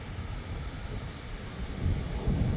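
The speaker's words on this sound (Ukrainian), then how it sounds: "Дуже сильні хвилі. Прямо виносить на берег." Strong sea waves roll and break on a summer beach shore, a dense continuous low roar and wash with some wind buffeting on the microphone, no voices.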